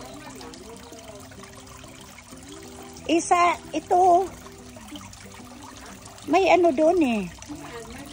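Tap water running in a steady trickle throughout, moderately close, partly masked by two stretches of conversation.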